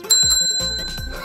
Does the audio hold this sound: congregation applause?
no